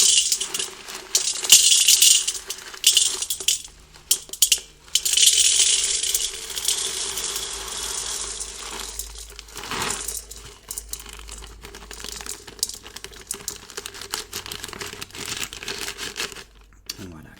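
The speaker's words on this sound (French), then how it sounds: "On va verser notre sel dans le chaudron." Coarse salt pours from a packet into a cauldron in bursts of bright, gritty hissing and crackling, stopping and starting with brief pauses.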